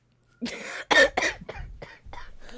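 A person coughs several times in a row, two harsh loud coughs followed by smaller, weaker ones, close to the microphone.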